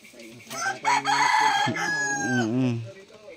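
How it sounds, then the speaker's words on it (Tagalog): A small native chicken clucks and then crows loudly and close by in a single short, rising call. "Yung manok dito native oh, liit."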